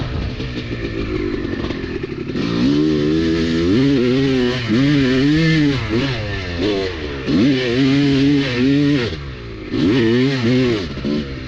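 A Honda two-stroke dirt bike with a modified power valve revs up and down repeatedly while being ridden, its buzzing engine rising and falling in pitch over several throttle bursts, loud and close.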